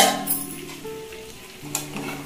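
Tiger prawns fry in a pan on low heat with a gentle sizzle, and a few soft clinks of a utensil against the pan break in. The sounds are close and there is no talking.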